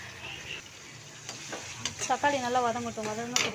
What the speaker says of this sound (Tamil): இப்போ தக்காளியை நல்லா வதக்கி விட்டுப்போம்